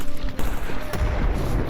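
Grenades explode and guns fire during a close firefight in the game Stalker Anomaly: loud, booming blasts with sharp cracks, two strong hits about half a second apart over a heavy, rumbling background.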